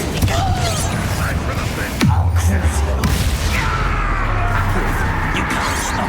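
A Confringo fire spell blasting in the Hogwarts Legacy video game, a heavy booming impact with a rumbling crash and whooshing magical effects amid battle noise, voices shouting now and then.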